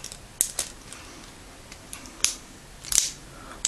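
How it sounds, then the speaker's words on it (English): Small spring-loaded scissors on a Leatherman Style CS multitool snip several times, quiet crisp clicks spaced irregularly across a few seconds against a faint room hiss, with no speech. "it's got a wicked pair of scissors"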